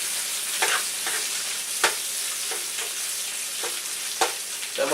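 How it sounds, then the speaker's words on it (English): Bacon frying in a pan gives a steady close sizzle with crackling, broken by several sharp scraping stirs and flips as the strips are turned, with no talking. "Bacon looks like it's coming along just fine."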